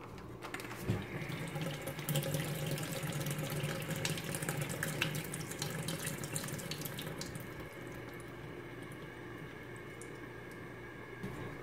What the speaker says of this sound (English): So the first thing I'm going to do is to Dump all the water out of the iron.